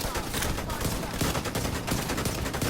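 Rapid bursts of video-game BB-pellet gunfire, dense and loud, sustained fusillade crackling continuously with no pause.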